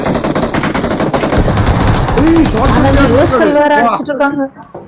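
Loud, sustained automatic gunfire in the BGMI battle royale game, rapid continuous bursts filling most of the clip, with excited voices talking over it before the shooting tapers off.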